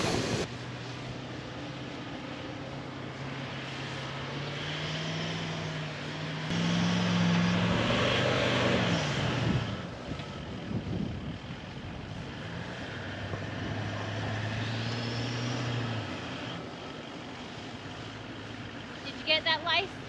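A camera drone hovers and flies above a stuck four-wheel drive near Pink Lake. A steady mechanical drone and buzz run throughout, with a rising whine near the end, and muffled voices come and go underneath.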